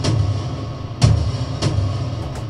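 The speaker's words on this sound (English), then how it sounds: "The dry drums sound like this." Dry tom drums with no distortion, sounding as a few spaced thumping hits over a sustained low rumble, loud and close with no voices.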